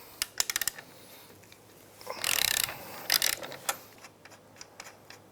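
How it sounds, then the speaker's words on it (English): Ratchet loosening the axle bolt on a KLX 110 pit bike: a few sharp close clicks, then a burst of fast ratcheting, another shorter run and scattered ticks, with no talk. "Now let's loosen up that axle bolt."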